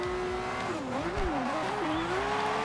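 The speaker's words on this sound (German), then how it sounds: "Immer schön im Drift hier" Sustained engine note from a hypercar drifting in the racing game Forza Horizon 2, its pitch wavering as the revs rise and fall through the slide, with a faint tire squeal underneath and no talking.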